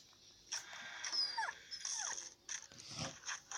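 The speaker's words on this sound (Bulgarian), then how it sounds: "Кучето скимти, аз умирам." A dog whimpers in the Into the Dead video game, soft high whines and yelps in short bursts, faint against quiet game background.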